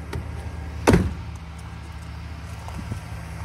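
A single solid door slam on a 2003 Chevrolet Silverado LS pickup, a thudding close near the start followed by quiet outdoor ambience.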